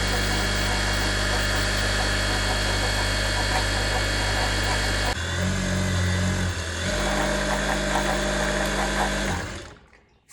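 Jack F5 industrial sewing machine winding a bobbin, a loud constant motor hum with a brief change in pitch partway through, then winding down and stopping near the end.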